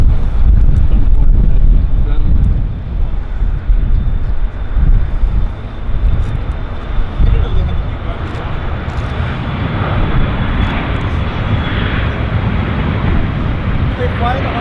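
A Falcon business jet passes at Vancouver airport with a loud, broad engine roar that eases slightly after the first seconds, heard amid strong wind buffeting on the microphone.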